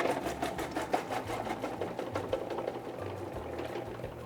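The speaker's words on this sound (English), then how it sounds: "Close the lid, turn the motor on," An Edlund VariCut food processor's motor runs steadily while dicing vegetables for pico de gallo, a continuous rapid whirring hum with no talk.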